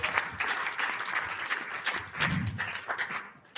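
Church congregation clapping together in a dense, sustained burst of applause, many hands close and loud for several seconds with scattered voices mixed in.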